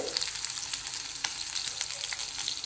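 Brinjal pieces frying in a pan give a steady, close, bright sizzle with light crackles and the occasional stir, with no voices.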